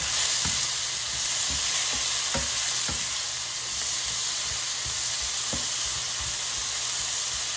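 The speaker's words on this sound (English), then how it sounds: "when the pan is fully heated, you'll hear the oil sizzling" Oil sizzles steadily in a fully heated pan as tomatoes fry for a tomato egg stir fry, a continuous close hiss broken by occasional soft knocks of stirring.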